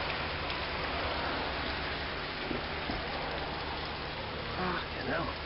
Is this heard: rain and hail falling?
yes